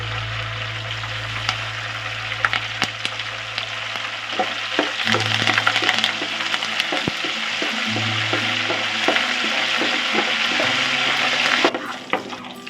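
Curry leaves hit hot oil in a pan already holding tempering seeds for a stuffed brinjal curry. A loud, close, continuous sizzle and spatter runs throughout, with occasional stirring clatter and a low hum underneath.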